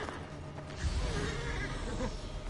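A horse whinnies in Assassin's Creed Origins amid a loud, dense roadside fight with bandits, the neigh rising out of continuous clatter and rumble that stays busy throughout.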